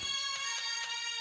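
A phone ringtone plays a bright, repeating electronic melody with short regular pulses, moderately loud and alone, in a comedy serial scene.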